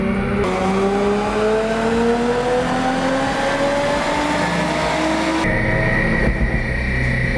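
A car on a dyno with an ethanol E85 tune revs hard in one long pull toward the rev limiter, the engine note rising steadily and loudly, then dropping back with a whine.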